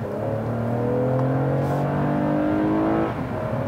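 A 2019 Toyota Camry XLE with a 3.5-liter V6 and 8-speed transmission drives on the road, its engine a steady, close drone that climbs in pitch as it accelerates, with no talking.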